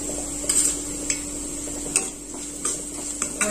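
Spices for dal dhokli stirred in a pan, with light metallic taps and scrapes of a spoon against the metal at an irregular pace over a faint steady hum.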